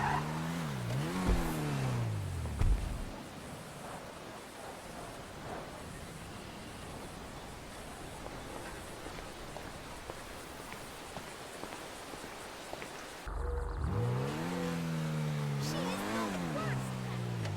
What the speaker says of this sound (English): that's the car I'm arriving in for the wedding